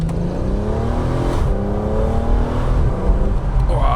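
A Volkswagen R32/R36 with a DSG gearbox revs hard while driving, its engine note rising and climbing through gears, loud and close from inside the car, with no talk over it.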